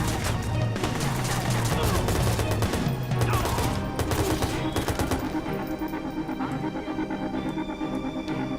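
Sniper rifle and other gunfire in the Watch Dogs video game: a dense, loud fusillade of rapid shots over the first five seconds, thinning into scattered reports over a low rumbling backdrop.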